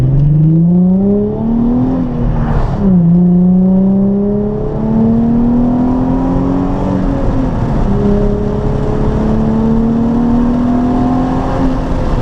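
Nissan 350Z engine drones steadily while cruising through a turn on a canyon road at sunset, pitch dipping and rising gently as it slows and pulls away again, loud and close throughout.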